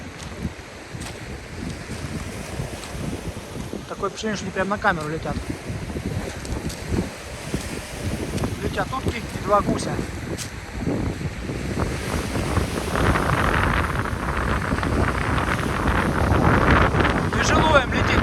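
Strong wind buffets the microphone on a seashore on a November evening at Lazarevskoye, a constant rough roar mixed with surf that grows louder toward the end, while someone talks over it.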